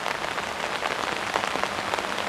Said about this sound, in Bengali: আজকে সারাদিন বৃষ্টি হইতেছে সকাল থেকেই